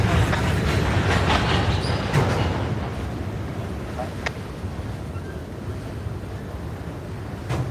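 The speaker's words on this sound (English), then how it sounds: "That's on the other track, our Switcher 750 coupled up with 3092. Moving those cars." Low rumbling and rolling rail noise from switcher locomotive 750 coupled to another unit, moving rail cars on CSX and Norfolk Southern tracks, heard from a clifftop at a distance, steady with faint metallic squeals.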